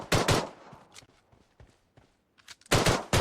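Pistol gunfire in a battle royale video game, short bursts of sharp shots at the start and end with a few scattered footsteps and small thuds between them.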